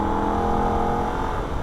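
A Holden VF Ute engine laps the Nürburgring at a steady high drone, a loud close-miked in-car roar holding a constant pitch without talk.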